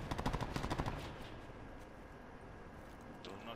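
A fast burst of rapid gunfire in Call of Duty: Black Ops 4 crackles loudly at the start, then gives way to a dense, rumbling wash of noise.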